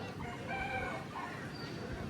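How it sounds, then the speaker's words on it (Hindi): A rooster crows faintly in the distance after rain in Vrindavan, its drawn-out call rising over a soft outdoor background hiss. "और बारिश के बाद ये आवाज़ आ रही है कुकड़ुकू कुकड़ुकू।"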